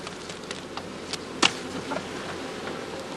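Honeybees at a traditional straw skep hive, a faint steady buzzing hum with one brief louder burst partway through, heard alone without voices.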